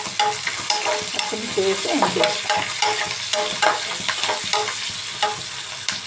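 Onions and green chilies frying in a pan for egg curry, with a loud close sizzle and brisk spoon-stirring scrapes throughout, and a single brief spoken word partway through.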